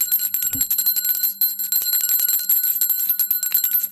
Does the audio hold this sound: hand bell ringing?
yes